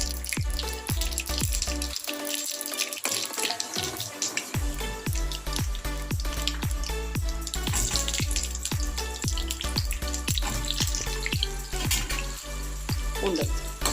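Small onions, garlic and curry leaves sauté in a pan with a close, wet sizzle, punctuated by frequent sharp clicks and scrapes of stirring. The sizzle briefly dips early on, then continues steadily.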